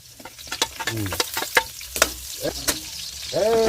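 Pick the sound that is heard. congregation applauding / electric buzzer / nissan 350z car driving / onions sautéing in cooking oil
onions sautéing in cooking oil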